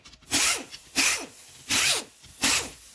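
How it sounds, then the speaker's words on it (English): Air hissing from a leaking compressed-air line in a motorcycle workshop, four loud broadband bursts of roughly half a second each at a steady rhythm, close and with no talk. "And we've got a leaky airline."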